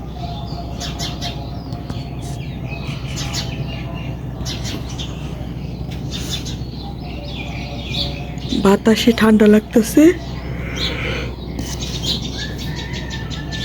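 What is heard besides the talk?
small birds chirping in a jujube tree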